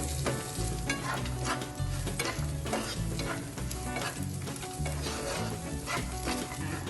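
Carrots and frozen peas with a pinch of salt frying and being stirred in a pan, a dense continuous sizzle with scraping stir strokes, close and steady with no voices.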